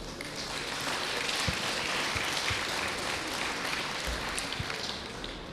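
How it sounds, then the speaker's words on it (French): Audience at the opening of a French mayors' trade fair applauding the organisers, steady, dense clapping from a large crowd that holds evenly throughout, with no voices over it. "Je pense qu'ils méritent vos applaudissements."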